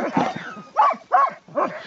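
A sled dog in Svalbard gives a run of short barks and yelps, several close barks in quick succession with whiny, nasal tones.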